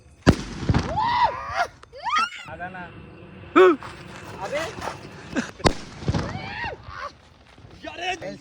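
Several sharp Diwali firecracker blasts, a petrol-wrapped bomb, go off at irregular intervals, loud and close, with people talking and shouting between the bangs.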